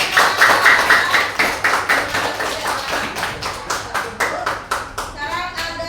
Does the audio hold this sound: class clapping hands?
yes